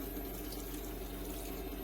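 A watering can pours a slight, steady trickle of water onto lettuce growing in a tub garden, a continuous close splashing with no voices.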